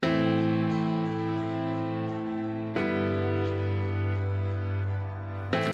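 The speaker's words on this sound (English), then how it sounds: "Now I want to take the piano, which is the 3rd track, and move that all the way to the right." A sustained piano passage panned hard right, with ringing chords that change partway through, played alone without talking.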